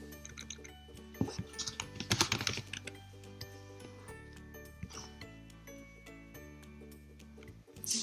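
Typing on a computer keyboard to enter a search, a quick run of light clicking keystrokes in bursts, steady and close, alone without talk.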